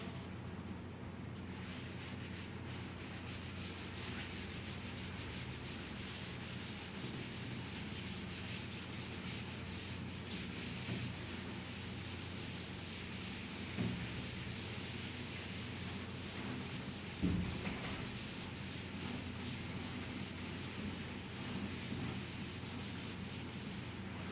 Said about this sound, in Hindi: इसको मैं रब कर दे रहा हूं अब।